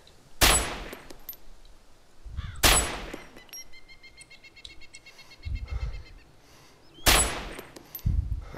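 Gunshots ring out in Arma 2 DayZ Overpoch: three sharp, loud reports spaced a few seconds apart over a quiet outdoor backdrop with faint bird chirps.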